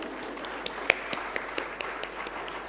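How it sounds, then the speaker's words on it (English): A handful of scattered, faint hand claps ring out one by one in a hall at a national deep tech innovation conclave in Visakhapatnam, with quiet room tone between them and no real burst of applause. "maybe we could start with a resounding round of applause just to wake us all up"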